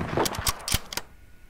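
Gunfire in a WWII Soviet roleplay video game: a quick run of four or five sharp, close shots in rapid succession, then a short tail of quiet room tone.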